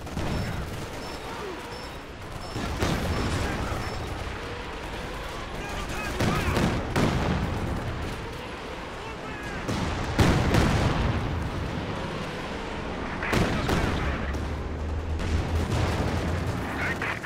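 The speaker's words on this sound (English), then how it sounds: "TN-13 firing rockets" Rocket artillery barrage from a TN-13 in Company of Heroes 2, a dense, continuous roar of launches and blasts with sharp peaks throughout, while battlefield voice callouts play over it.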